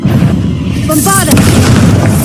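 A loud booming blast from the Bombarda spell erupts in Hogwarts Legacy over constant rumbling game noise, just after a voice shouts the incantation.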